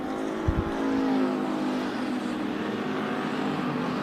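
Race cars circle the track at Bakersfield Speedway during a heat race, their engines blending into a steady, continuous roar from mid-distance, with a brief low thump near the start and no talk.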